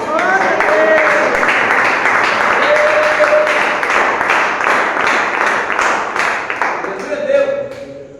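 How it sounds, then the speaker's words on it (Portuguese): A church congregation claps hands in praise, loud rhythmic clapping sustained for several seconds, mixed with sung or spoken voices, then tapering near the end. "Pode exaltar o Senhor com palmas."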